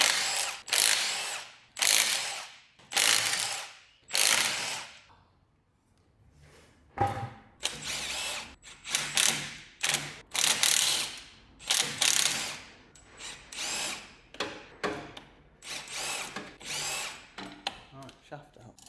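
An impact power tool on a VW Caddy 2K takes off a wheel, delivering loud, close bursts of rattling hammering in a series of short runs separated by brief gaps.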